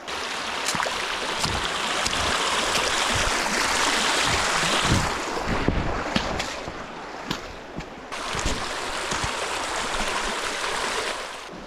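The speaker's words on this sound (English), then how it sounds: "We made it to yet another creek crossing." Creek water rushing steadily at a winter creek crossing in Dolly Sods, a loud, continuous broadband wash that fills the whole clip, close by and with no voices.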